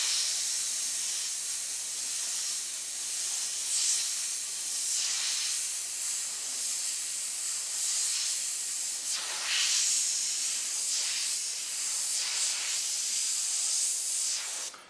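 An airbrush sprays red paint at about 30 psi in a steady close hiss, swelling and easing in repeated bursts for the whole stretch.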